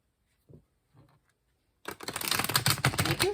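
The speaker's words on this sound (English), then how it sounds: "I just like to give these a really good shuffle for everyone to see." After a couple of faint taps, tarot cards riffle and shuffle in a fast, crisp flutter close to the listener.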